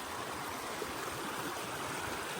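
A river rushes steadily along a washed-out hiking trail, a continuous broadband wash of flowing water heard up close and alone.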